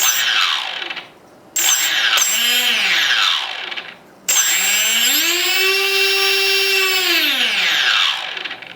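Electric motor of a Fun Cub 1100mm EPO RC plane spinning up on throttle, a loud close whine that rises and falls in pitch across several bursts with brief pauses between them.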